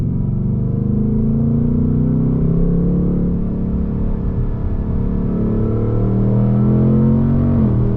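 A 2024 Mustang GT Premium engine pulls hard in third gear on wet roads, a loud, steady, close rumble whose pitch climbs smoothly under acceleration with no talk over it.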